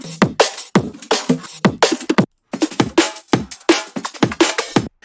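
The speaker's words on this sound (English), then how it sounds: "I took a few drum loops from sample packs." Punchy, fast drum and bass drum loop from sample packs with crisp broadband hits and a short gap, playing alone without any voices.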